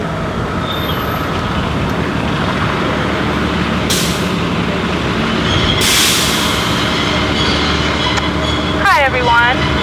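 A bus passes outside during an indoor event, a low rumble with sharp hissing bursts of air brakes and a brief squeal, heard under people talking in the room.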